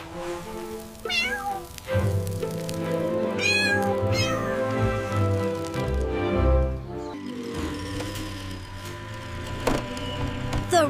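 A Siamese kitten in a cartoon meows again and again in short, high, wavering cries over busy background music, fairly close and clear.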